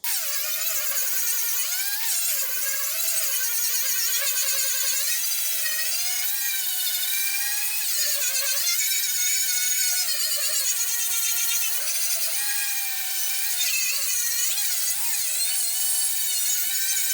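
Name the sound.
power tool removing body filler from a car fender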